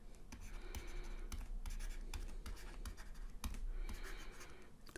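Pen writing a trigonometry formula by hand on paper, continuous soft scratching strokes with short pauses, close and faint over a steady background hiss.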